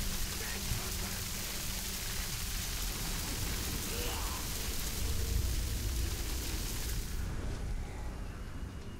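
Rain in the video game Shadow of Mordor keeps up a constant hiss, with a low rumble running underneath. It cuts off abruptly in the last few seconds.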